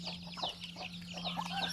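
Chickens on a semi-free-range Thai farm, with a breeding rooster among the flock, give a few short clucks at moderate distance over a steady low hum.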